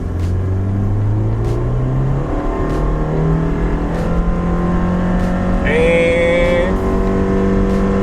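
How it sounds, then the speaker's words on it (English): A Subaru Impreza with a CVT gearbox accelerates at full throttle, its engine holding a loud, steady drone that climbs slowly in pitch rather than shifting through gears, with a brief word spoken near the start. "So I'm going to floor this car, and I'm going to give you a demonstration of what I don't like about a CVT."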